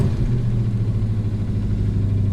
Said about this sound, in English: It's idling kind of fast right now.